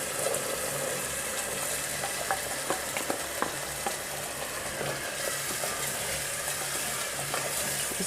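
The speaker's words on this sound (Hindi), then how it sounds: "अभी हम इसमें ये चने जो बॉईल किए हुए हैं वो ऐड कर देंगे।" Boiled chickpeas fry in a pan, sizzling steadily and loudly, with occasional scraping stir clicks as they are moved around.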